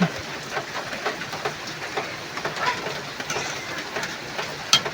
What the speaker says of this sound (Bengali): ঘরে চালের উপর বৃষ্টি পড়তেছে, খুব একটা খারাপ লাগে না, ভালোই লাগে শুনতে